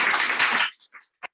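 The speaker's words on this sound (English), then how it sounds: "Should we applause?" Audience applause after a talk at a conference session, a dense burst of clapping that stops abruptly, followed by a few faint scattered sounds.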